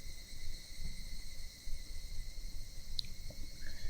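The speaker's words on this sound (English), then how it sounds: "Only the cry of the cicadas remained, annoyingly loud" Cicadas drone in the video game Higurashi When They Cry, a steady, dense, high buzzing chorus that holds continuously without pause.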